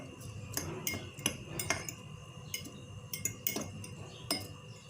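A spoon mixes vinegar-soaked onion and chopped coriander salad in a bowl, giving a series of light, irregular clinks and scrapes, fairly faint and close, with no talk.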